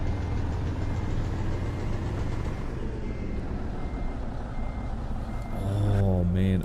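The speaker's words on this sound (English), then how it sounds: "The linkage sounds when you're actually changing gears." A Kenworth 521 truck in American Truck Simulator reverses in a steady, close engine drone, with reversing beeps and faint mechanical gear sounds layered in, and a higher tonal whine near the end.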